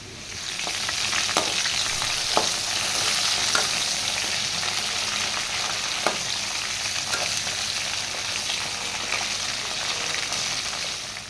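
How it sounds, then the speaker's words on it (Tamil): Brinjal pieces fry in oil for a dense, continuous sizzle, loud and close, with occasional sharper pops and scrapes as they are stirred and turned. "இப்போ கத்திரிக்காய் நல்லா எண்ணெயிலே வதங்கிடுச்சு"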